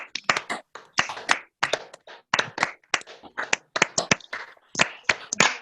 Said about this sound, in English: So just follow my clap, but don't stop clapping, yeah?